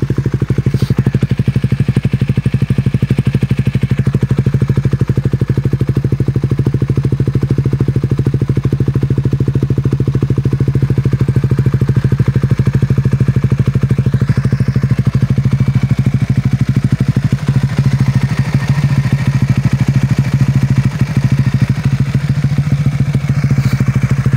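A 2024 Raider 150 Fi motorcycle with a Vhenworkz power pipe exhaust runs loud and close, mostly a steady throaty idle with slight rises in revs, no talk.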